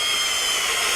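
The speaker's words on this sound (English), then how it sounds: "So I've got my 1/4 inch drill bit put into my drill." Power drill with a 1/4 inch bit drilling into a Harley Davidson lighting reflector housing, a steady loud high-pitched whir held close without pause.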